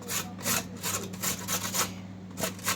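Hand grater shredding carrots, repeated close rasping strokes in an even back-and-forth rhythm, alone without speech.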